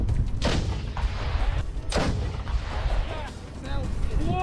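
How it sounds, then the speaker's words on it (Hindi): Ukrainian soldiers fire an M777 howitzer at Russian positions: two heavy, close booms with rough rumbling tails over constant wind and field noise, followed by faint chirping sounds near the end. "इस वीडियो में यूक्रेनी सैनिक M777 हौवित्जर तोप से रूसी सेना पर बमबारी करते हुए दिख रहे हैं।"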